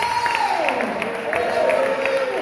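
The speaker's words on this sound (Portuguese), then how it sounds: "rende palmas ao Senhor Jesus" A church congregation claps together in worship, a steady wash of clapping beneath a sustained sung or intoned melody, loud and close throughout.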